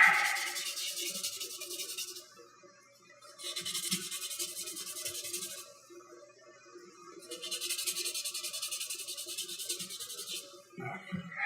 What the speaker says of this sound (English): Stop sanding for a minute.